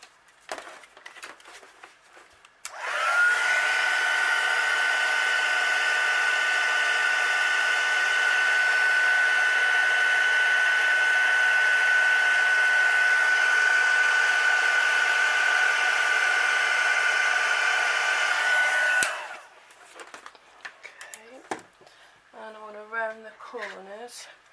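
A heat tool blows on paper while crafting a wedding guest book, giving a steady, loud whirring roar that starts abruptly, holds for about sixteen seconds and then cuts off, with a few handling noises and brief speech around it.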